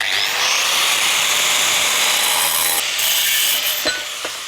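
Power saw cutting masonry tile, a loud harsh continuous grinding whine held for several seconds before tapering, with a couple of short knocks near the end.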